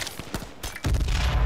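Rapid bursts of automatic gunfire in the battle royale shooter H1Z1, a loose burst of separate shots followed by a loud, dense, sustained volley of fire at close range, with no talking.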